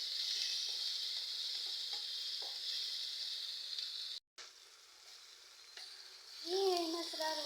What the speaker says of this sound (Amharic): ከዛም ሽንኩርታችንን በደንብ ካቁላላን በኋላ ቲማቲማችንን እንጨምራለን።